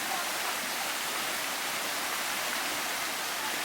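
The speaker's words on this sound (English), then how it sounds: "This dripping, flowing waterfall kind of effect." Steady broadband rush of water from a dripping, flowing waterfall feature, continuous and fairly loud with no breaks.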